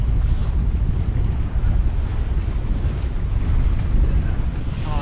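A sailboat under way in open sea, with steady roaring wind buffeting the microphone over the constant wash and slap of waves against the hull, loud and unbroken throughout.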